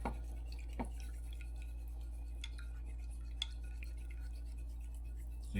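An egg yolk mixture being stirred, with faint scattered clinks and scrapes of a utensil against a bowl over a steady low hum.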